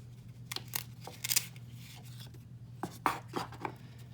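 Packaging for an Owlet Smart Sock 2 baby monitor being unwrapped, with scattered close crinkles and rustles in irregular bursts over a low steady hum, no talking.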